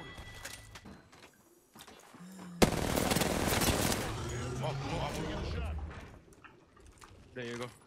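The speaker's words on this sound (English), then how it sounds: "I suppressed fire and he got scared" Suppressing gunfire in a video game: a sharp onset of sustained rapid automatic fire rattles loudly for several seconds after quieter scattered shots, then tapers off as a voice speaks near the end.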